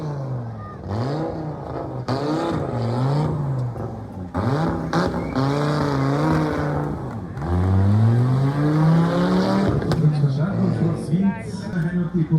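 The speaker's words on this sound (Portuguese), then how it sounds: "Trabalhar neste motor de 5 cilindros é uma coisa absolutamente incrível." Five-cylinder rally car engine racing, revving hard with repeated rising and falling pitch sweeps as gears change, loud and close, with a voice talking over parts of it.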